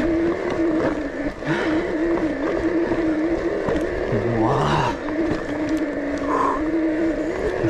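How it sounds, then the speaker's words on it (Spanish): A Bros motorcycle engine in Boss riding mode, pushed hard, with a steady loud throttled drone whose pitch rises and dips as it revs, plus wind buffeting across the ride. "El motor Bros en el modo Boss y dándole caña. Suena, ¿eh? Cuando lo fuerzas, suena."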